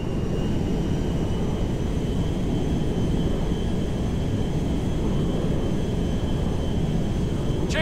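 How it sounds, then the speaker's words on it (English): A jet plane flying in Grand Theft Auto V, a steady loud engine roar with a constant whine, unbroken throughout and heard on its own. "There's been a change of personnel and destination on the Meriwether jet. We are now landing at Mackenzie Field."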